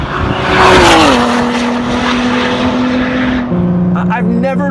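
A 2017 Ford GT's V6 engine roars loudly and steadily, its pitch climbing then settling into a sustained drone, with a shift lower near the end as someone begins speaking over it.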